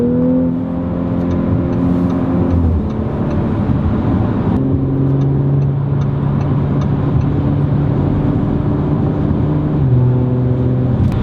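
An Audi RS5 drives along with a loud, sustained exhaust drone whose pitch steps between gears, steady and close, with faint light pops and crackles overhead and no voices.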